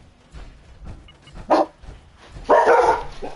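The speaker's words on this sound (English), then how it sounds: "Oh, and here goes the dogs." Dogs bark in the Fallout 4 video game, two sharp bursts, the second longer with a rough snarling edge, close and loud over a quiet ambient background.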